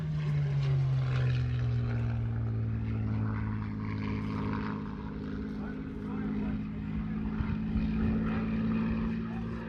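Aircraft flying at the Fort Wayne air show, a steady droning engine tone that slowly shifts in pitch as it passes, with an announcer talking over it throughout.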